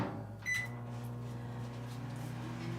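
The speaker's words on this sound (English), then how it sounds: "I'm going to warm up the inside of the microwave before we put it in there." A microwave oven runs steadily with a low, continuous hum, warming up its empty interior before naan bread dough goes in; a brief beep or click rises near the start, then the drone carries on alone.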